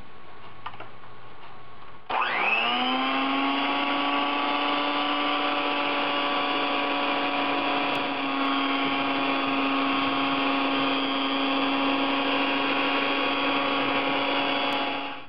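An electric mixer runs at low speed through carrot cake batter of vegetable oil, fresh milk and vanilla extract. It starts up after a short quiet stretch, then holds a steady, even whine with a constant motor hum throughout.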